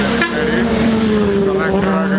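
Superbikes passing on an open road, their engines droning steadily and close by with rising and falling pitch, under continuous wind rush and a voice.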